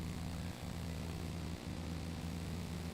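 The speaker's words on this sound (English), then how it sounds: "So I can still talk and still have some airplane sounds." Airplane engines at San Francisco airport, a steady loud droning roar with a low rumble that holds throughout and stands alone without voices.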